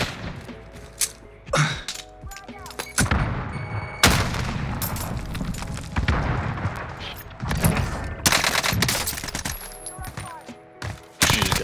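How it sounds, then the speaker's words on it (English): Bursts of automatic gunfire in the Call of Duty Warzone battle royale, with rapid volleys and sharp single shots cracking loud and close in repeated clusters, mixed with game sounds and brief voices. "Steven, hostile fire."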